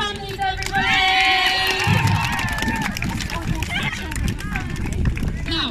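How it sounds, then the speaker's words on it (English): Families and parents at a school sports day cheer, shout and clap as a loud, continuous crowd roar, with children's voices and bright whoops rising over the babble throughout. "give a round of applause to our fantastic crowd"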